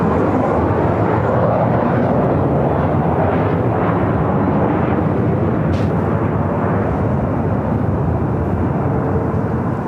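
Delta Boeing 757-200 jet arriving at LAX from Atlanta, a loud continuous broadband engine roar that stays steady and close for the whole stretch, no speech.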